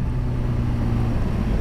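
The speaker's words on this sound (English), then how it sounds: "I'm just riding my motorcycle." A steady, loud low engine rumble from a moving motorcycle with wind noise, constant throughout, heard by the rider.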